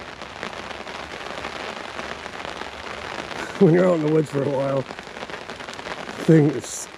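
Steady rain pours off a cabin roof, pattering and splashing throughout, with someone speaking briefly over it midway and again near the end.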